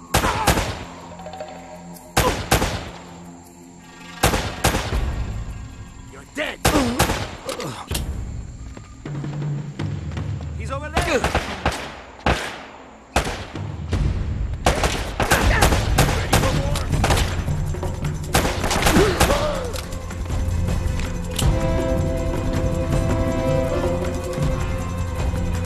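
Gunfire in the video game Uncharted: Drake's Fortune, loud bursts of automatic fire and single heavy shots crackling in uneven clusters, building to a dense sustained barrage with low booms underneath.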